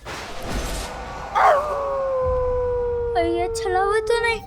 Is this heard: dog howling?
yes